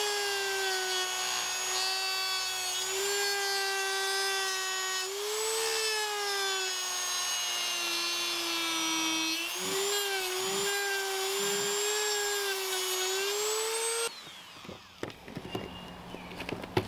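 A Dremel rotary tool cuts through aircrete blocks with a loud, steady high-pitched whine that dips and rises under load for about fourteen seconds, then stops, leaving a few faint knocks.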